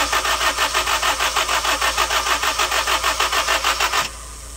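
A 2000 Honda CR-V with a 2.0 engine and no spark cranks without catching, a rhythmic whirring starter chug pulsing steadily for about four seconds before cutting off abruptly into quiet.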